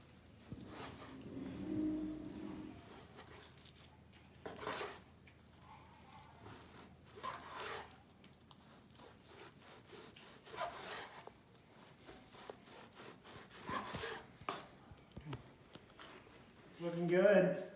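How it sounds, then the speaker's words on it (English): A knife slices through a rested, grilled Thundering Longhorn flat iron steak cooked on a PK360 grill, giving soft repeated rubbing and sawing strokes with brief scrapes near the board, faint and intermittent under speech. "Now we're just going to slice it up and we'll be ready to eat."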